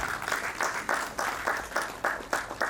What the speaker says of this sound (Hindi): मैं चाहता हूं कि जोरदार तालियों से आप